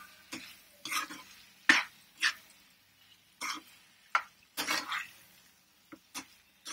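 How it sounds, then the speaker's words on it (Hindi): A chicken tikka stuffing mixture for hot dogs is stirred in a pan with short, separate scraping and clinking strokes, quiet between each stir, with no talking. "अब इसे हमें अच्छे से मिक्स कर लेना है।"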